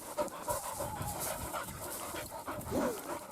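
A dog pants rapidly and steadily up close, with a brief whiny whimper near the end.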